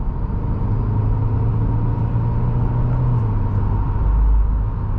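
A car on summer performance tires downshifts under moderate acceleration, a loud steady engine drone and road rumble from inside the cabin, with a low surge near the end.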